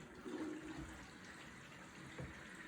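A pump runs in a custom-built AMD Threadripper 3960X watercooling loop with EK components while coolant bubbles and gurgles through it, a quiet, steady liquid wash with a few soft bubbling pops.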